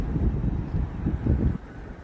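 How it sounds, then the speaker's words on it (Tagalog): Wind gusts steadily across the microphone outdoors, a loud, low buffeting roar that swells and fades in uneven pulses. "Ang hangin."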